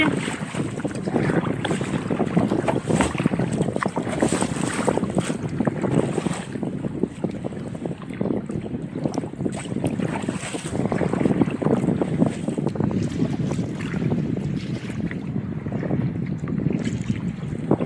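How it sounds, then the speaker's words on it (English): Strong wind buffets a small boat out on Lake Wellington near the end of the Latrobe River, a loud continuous roar of gusts and microphone rumble with water sloshing beneath, no talking. "Quite windy out here."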